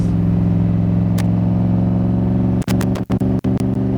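A 1965 Shelby Cobra replica, a Superformance MKIII, pulls hard on an expressway, its engine a loud, steady, close rumble with a strong low growl that breaks into a few quick choppy dips near the end.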